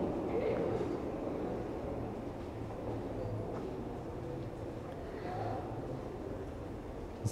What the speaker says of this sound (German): So sieht es ja von hier aus im U-Bahnhof Pankstraße aus.